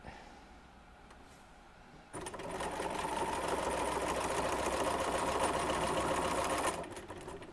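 Sewing machine stitching quilt block pieces, a quiet pause followed by a steady, rapid mechanical whir that runs for about four and a half seconds, then stops.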